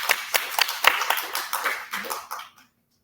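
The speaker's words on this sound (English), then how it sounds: "So a round of applause for Andreas Rudono." Audience applause at a live workshop session, a burst of clapping from a room of people that builds briefly and then dies away to silence after about two and a half seconds.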